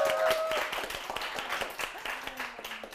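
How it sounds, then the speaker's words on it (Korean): Audience applause at a Korean lecture show on art and creativity, a dense patter of clapping from a seated crowd that stays fairly steady for about three seconds, with a voice briefly heard over it. "박수 좀 받아야 되겠죠?"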